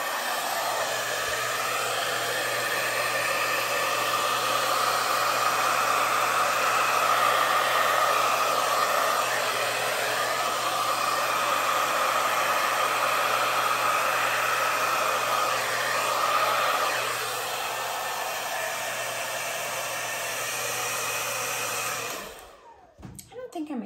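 A hair dryer on high fan with cool air blows on fluid art paint, giving a loud, continuous whooshing drone that holds for over twenty seconds before clicking off near the end.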